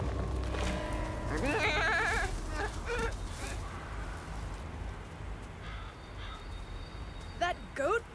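An animated goat in a fantasy cartoon lets out quavering, wobbly bleats, a long one early and a short one near the end, over background score with characters talking around it.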